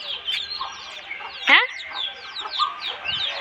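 Chickens clucking and squawking up close, with thin chick peeps throughout and one loud, harsh squawk midway, as a crow takes a chick.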